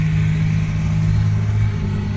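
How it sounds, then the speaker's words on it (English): A loud truck engine runs with a steady, heavy low rumble and a slight rise in revs, close and continuous, heard during tree removal work in a residential yard, with no voices. "Got a loud truck there, boy."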